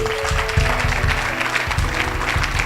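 A church congregation at a Sunday service claps loudly and steadily in praise of God, a dense, close, rhythmic applause throughout.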